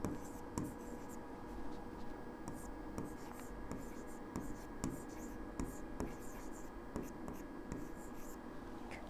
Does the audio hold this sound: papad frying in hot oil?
no